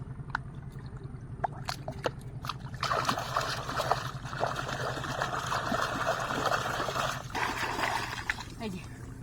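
Someone washes in river water on a Sundarbans mudbank, with irregular splashing and sloshing close by while people talk over it.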